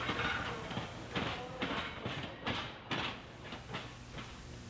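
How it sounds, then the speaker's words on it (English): A Wilmington & Western steam-hauled train rolls over the Barley Mill Road crossing, with rhythmic clattering wheel beats and rumbling cars passing close by, loud and continuous. "the train passes over the crossing at Barley Mill Road"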